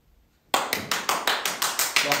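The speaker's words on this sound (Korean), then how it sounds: "박수!" A group of people claps in a steady, quick rhythm during a party game, about ten sharp claps in unison after a brief moment of near silence.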